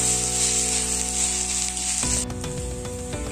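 Spices for a Malayalam-style okra (bhindi) roast sauté in a hot pan, a steady loud sizzle with no talk, then stirring scrapes and clinks break in halfway through over the continuing fry.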